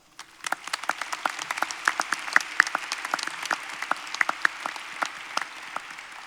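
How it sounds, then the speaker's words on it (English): Applause at a high school science academy graduation ceremony, with a thin crowd of individual clappers whose distinct sharp claps patter unevenly, rising quickly, then gradually thinning out toward the end. "let's give a round of applause for everyone's perpetual support"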